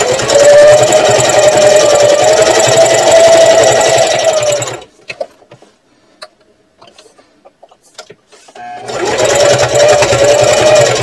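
A sewing machine runs loud and close while basting a purse panel at a 1/8 inch seam, whirring steadily for several seconds, stopping briefly with light clicks, then starting up again.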